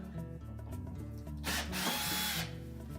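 A power drill backs four mounting screws out of the rear of a Whirlpool range during a cooling blower kit repair. A close, loud whir builds into one sustained high-pitched burst lasting about a second.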